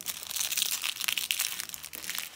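Close crinkling and tearing of advent calendar packaging, a busy rustling scrunch lasting a couple of seconds, fairly quiet.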